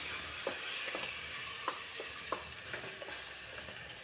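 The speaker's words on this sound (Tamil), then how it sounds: "வதக்கி இந்த மசாலா வாசனை போகிற வரை கொஞ்சம் நேரம் நல்லா வதக்கி விடணும்." Masala and vegetables sauté in a pan for a white gravy, a soft continuous sizzle broken by a regular run of light scraping stirs, quiet and close with no talk.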